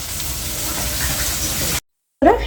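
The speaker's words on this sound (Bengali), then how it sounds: "পাটায় কিন্তু বেটে নিচ্ছি" A bharta paste is ground by hand on a stone shil-pata slab, giving a steady rough scraping rasp that stops briefly before resuming.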